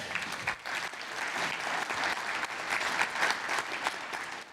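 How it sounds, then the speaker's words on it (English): A round of applause from a conference audience at a business summit, a brief, moderately distant wash of steady clapping. "give them all a round of applause"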